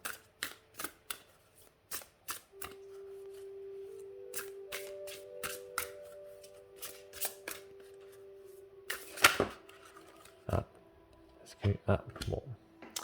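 Oracle cards slide and snap in a run of crisp, close shuffling clicks and riffles, with a faint sustained tone in the background and a louder burst of card noise midway.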